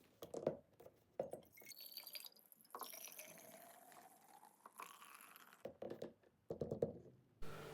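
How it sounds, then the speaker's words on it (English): Liquid trickles and drips faintly while homemade three-hops beer is bottled, with light intermittent splashes and small clinks scattered through a quiet room and no talk. "Now I bottle my beer"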